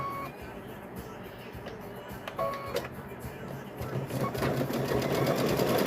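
A sewing machine stitches a fabric bowl cover along its edge, a steady mechanical whir that runs in short bursts and then speeds up and grows louder toward the end, with a person talking over it.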